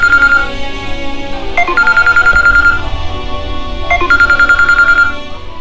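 A telephone rings with a bright electronic trill, two bursts of rapid repeated tones separated by a short pause, loud and close over a soft background.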